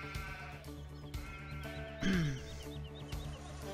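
Sheep on a working farm bleat once clearly and fairly close, a wavering call rising over steady farmyard background noise, with no talking.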